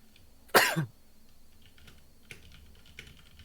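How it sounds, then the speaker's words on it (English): A single sharp cough lands near the start, loud and close, followed by quiet soft keyboard clicks and faint background noise. "it's because I started coughing"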